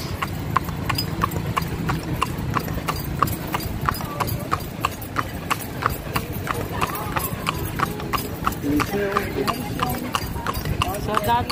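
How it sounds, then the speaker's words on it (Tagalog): Horse hooves clip-clop in a steady, even trot on pavement during a horse-drawn carriage ride through historic Manila near Binondo, loud and continuous beneath people chatting throughout. "Horse."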